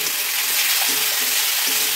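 Spice masala with cumin and turmeric sizzles steadily in hot oil for a dhaba-style egg curry, a close, continuous hissing fry with faint stirring scrapes.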